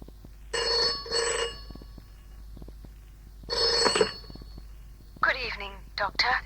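A telephone bell rings in three distinct double bursts, loud and near with pauses between, followed by a person beginning to speak.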